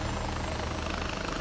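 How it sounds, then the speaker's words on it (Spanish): Helicopter in the video game Far Cry 4, a steady loud rotor drone with a low pulsing chop and a thin high whine, continuous and close, with no one talking. "¿Qué a poco los güeyes no oyen al helicóptero?"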